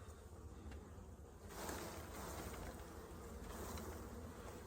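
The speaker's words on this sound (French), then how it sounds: "On va rajouter un peu d'abeilles sur le cadre pour mettre un peu plus de difficulté." Honeybees crawling on a beehive frame, a dense continuous buzzing hum up close, swelling briefly louder midway, with no talking.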